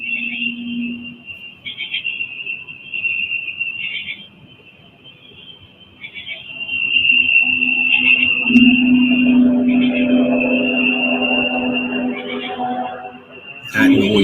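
A distant droning hum like a boat carries from outside, a steady tone that swells louder partway through and holds, with faint indoor sounds around it.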